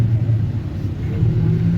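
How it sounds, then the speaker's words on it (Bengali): A city bus in Chennai pulls away on a rainy day, its engine a low continuous rumble heard from inside the cabin, steady and fairly loud with no voices. "এই বাস চলতে শুরু করেছে"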